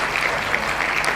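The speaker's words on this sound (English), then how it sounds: "Round of applause for them." Audience applause at a quiz prize ceremony, a steady wash of clapping hands across a crowd, held at an even level for a brief moment with no voices on top.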